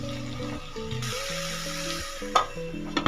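Mushrooms and peas sizzle and are stirred into spices over a high gas flame for matar mushroom, a close frying hiss with a couple of sharp spoon knocks over soft tonal background music.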